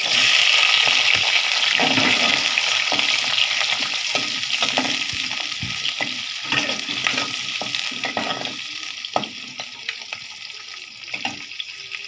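Large-cut onions fry in a pan with a steady, loud sizzle that slowly fades, broken by scattered clinks and stirring scrapes, with no voices over it.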